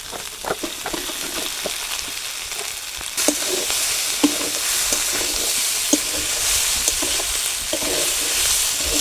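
Potatoes and fried fish drop into a pan with onion paste, ginger, cumin, salt and turmeric, setting off a loud, close sizzle that swells after a few seconds, with repeated stirring knocks and scrapes and no talking.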